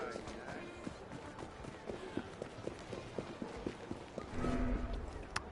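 Horse hooves in Assassin's Creed Syndicate clop in a quick, irregular rhythm close by on a street, with a person talking over them and a louder rumble near the end.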